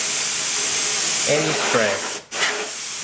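Canned air blasts dust out of computer fans in a loud, continuous close hiss that dips sharply for a moment near the end before resuming, while a voice speaks briefly underneath.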